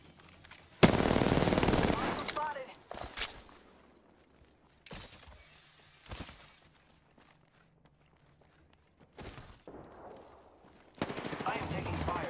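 Gunfire in the Apex Legends video game: a sharp, loud burst of rapid shots, followed by scattered single reports and short bursts with quieter footsteps and movement between them, then another burst at the end.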